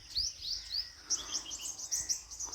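Several birds chirp and tweet near a sacred peepal tree at dawn by the Narmada river, with quick bright overlapping calls close by in a quiet outdoor setting.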